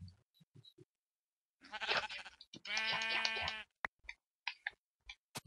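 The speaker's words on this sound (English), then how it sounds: "sheep." Minecraft sheep bleating in two clear drawn-out bleats, the second longer and wavering, separated by quiet gaps and surrounded by short soft game clicks and blips.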